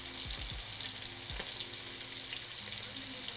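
Food sizzles and crackles steadily in a hot pan, a dense hiss with occasional clinks of a utensil, close by and fairly quiet.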